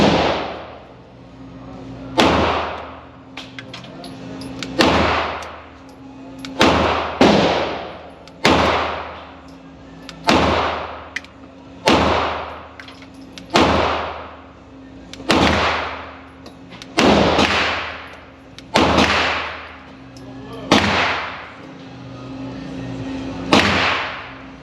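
Ten pistol shots from a Sig Sauer M17 or Springfield Echelon firing 115 grain rounds at a range, sharp evenly spaced cracks, each followed by a short decay, loud and near, with no talk.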